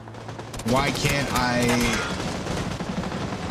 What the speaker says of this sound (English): Lots of shots happening.